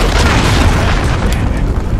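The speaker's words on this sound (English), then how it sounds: "Enemy cruise missile." A heavy, sustained rumbling blast from an enemy cruise missile in Call of Duty Modern Warfare, loud and broad throughout the clip with faint speech underneath.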